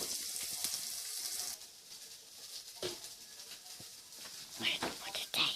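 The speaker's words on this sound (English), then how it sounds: "now we're going to give that a stir" Leftovers fry in a pan as they are stirred, a steady hiss and sizzle broken by soft scrapes and knocks, with voices talking faintly underneath.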